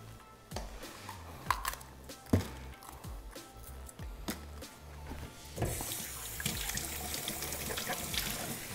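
Tap water running while spinach is washed, starting as scattered splashes and knocks and swelling into a steady hiss of flowing water in the final seconds, fairly close and at moderate level.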